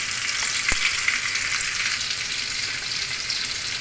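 Chicken curry ingredients sizzle and splatter in a pan for creamy chicken curry, a steady close hiss of frying throughout with a few small pops.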